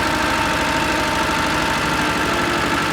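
Engine of a Żuk van idling unevenly while misfiring on one cylinder, a loud, steady close-up rumble with a lumpy, knocking pulse running throughout.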